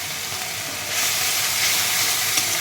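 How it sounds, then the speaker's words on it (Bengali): Fish and spices fry in a pan with a steady broadband sizzle that grows louder about a second in and continues close by without talk. "আমি মশলাটাকে ভালো করে ভেজে নেব।"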